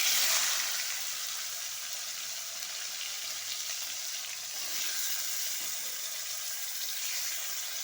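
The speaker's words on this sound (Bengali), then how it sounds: "কড়াইতে তেল গরম হয়ে গেছে, এবার উচ্ছেগুলো ভেজে নেব।" Sliced bitter gourd fries in hot oil in a kadai, giving a steady, dense, close sizzling hiss that stays even throughout with no voices.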